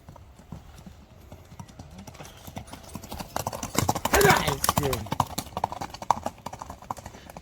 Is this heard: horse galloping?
yes